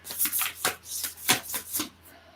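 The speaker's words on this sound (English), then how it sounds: "allowing this little meditation space to guide also this oracle reading, this card pulling" Oracle cards being shuffled by hand for a card pulling: a run of brisk riffling bursts in an uneven rhythm, close and clear, no voices.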